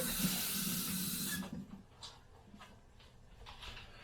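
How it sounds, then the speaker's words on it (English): Onions are rinsed under a running kitchen tap, a loud steady stream of water for over a second, then stopping to faint drips and small sounds. "So, just give them a solid rinse."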